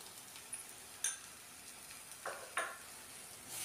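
Boiled potatoes for a Maharashtrian potato bhaji being sautéed in a pan over a raised flame, a faint steady sizzle with a few soft scraping stirs, quiet and close with no voices.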